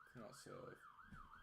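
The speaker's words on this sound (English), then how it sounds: "Didn't sound like a police car or an ambulance, so I'm assuming it's a fire engine." A fire engine siren wails in a smooth rising-and-falling sweep, fairly near, while someone talks briefly over it.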